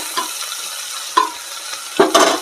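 Ginger and cumin paste frying in a little oil, a steady close sizzle broken by three sharp scraping stirs of a spatula in the pan.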